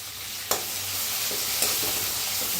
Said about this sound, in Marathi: हिरवी मिरची आणि लसूण पत्ता आणि टमाटो एक कापून घेतलेला आहे आणि छान असं भाजून घेऊया